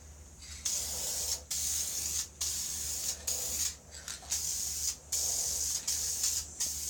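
Lacquer hisses from a spray gun in repeated short bursts of a few seconds each, separated by quick pauses as the trigger is released, close and fairly soft with no talking.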